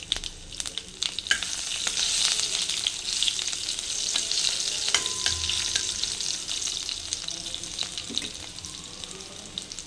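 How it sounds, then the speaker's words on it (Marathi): Continuous crackling sizzle of garlic pieces frying in hot tempering oil with asafoetida, with sharp pops and spatters throughout and occasional stirring, close and steady. "हे लसणाचे तुकडे मी त्यात टाकणार आहे फ्राय करायला"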